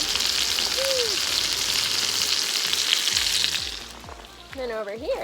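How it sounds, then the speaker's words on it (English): Two large burgers sizzling on a grill at a campsite, a steady close crackling fry that fades toward the end as a voice briefly speaks. "Two massive burgers cooking."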